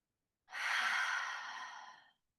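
A single long, breathy exhale during a yoga bridge pose, close and clear, rising quickly and fading out over about a second and a half, with silence on either side.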